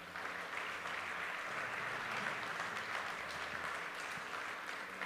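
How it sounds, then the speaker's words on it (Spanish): A church congregation applauds together in a sustained wash of clapping that stays even and fairly full, with a low murmur underneath. "Mire denle un fuerte aplauso al Señor"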